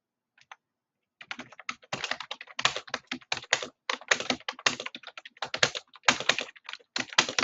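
Fingers type on a computer keyboard at home in quick, irregular bursts of crisp clicks, close and clear, with brief pauses between runs of keystrokes.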